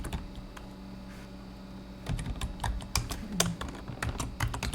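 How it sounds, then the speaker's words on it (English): Typing on a computer keyboard while entering data into spreadsheet cells, a quiet run of light taps that becomes a denser, louder cluster of clicky keystrokes, close up over a low steady hum. "To enter data in a cell, you just basically click and type it in"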